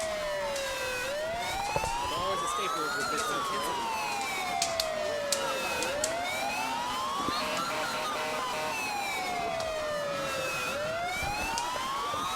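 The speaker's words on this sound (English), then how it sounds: "fire trucks are loud and they can hurt ears" Fire truck sirens wail, rising and falling in slow repeated sweeps, loud and continuous, over traffic rumble at a Fourth of July parade in Bridgewater, Massachusetts, with a brief voice speaking underneath.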